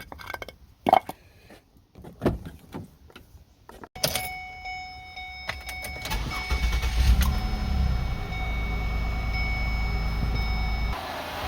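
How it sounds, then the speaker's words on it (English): A few clicks and clunks, then a 2008-2012 Ford Escape 3.0L V6 cranks and starts, settling into a steady, low, continuous idle rumble close by. "I'm now going to start the car and let it run for a couple of minutes."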